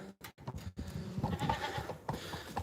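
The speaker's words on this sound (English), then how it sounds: "We've got a whole army of goats." Goats bleating on a farm at night, several nearby animals calling in overlapping, wavering bleats that run close and fairly loud with little pause.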